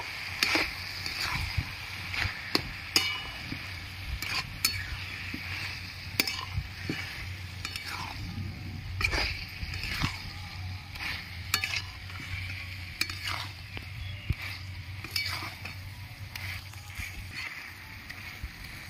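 Banana flower curry (mochar ghonto) stirred with a spoonful of ghee in a pan, soft sizzling under repeated scraping strokes and light clinks of the spatula against the metal, fairly quiet and close.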